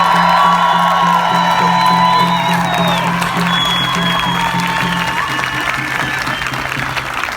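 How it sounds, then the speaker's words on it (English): An audience applauds and cheers loudly, with steady clapping joined by high whoops and sliding whistled cries near the start, then settling into sustained clapping that carries on to the end. "So let's give them a round of applause."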